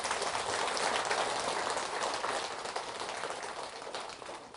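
Soft, diffuse clapping from an audience at a lecture hall gathering, thanking a veteran TV host. It starts fairly full, then gradually thins and fades, sounding somewhat distant with no voices over it.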